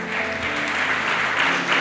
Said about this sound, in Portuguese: Salva de palmas, gente